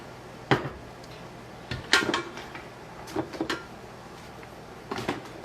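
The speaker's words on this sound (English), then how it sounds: "we're going to stir the rest of those strawberries in" A spoon stirs strawberries into a bowl while pies are being made at home, with a few scattered clinks and knocks against the dish and pauses of quiet in between.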